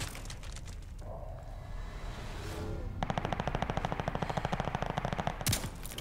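Rapid automatic weapon fire in the Call of Duty Vanguard game, a steady burst of evenly spaced shots rattling close and loud for several seconds after a quieter stretch, with a final sharper crack near the end.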